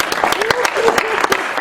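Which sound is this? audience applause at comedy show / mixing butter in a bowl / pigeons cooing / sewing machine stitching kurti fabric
audience applause at comedy show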